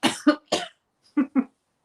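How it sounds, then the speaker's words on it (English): Five sharp coughs after choking on a drink: three close together, a pause, then two more, loud and close with no talking. "I choked on my drink"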